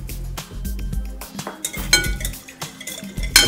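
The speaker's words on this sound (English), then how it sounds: "So we're just going to mix the vinaigrette together." Vinaigrette is mixed in a dish with a utensil, making bright clinks and scraping knocks against the dish in an irregular rhythm, close and fairly loud with no talking.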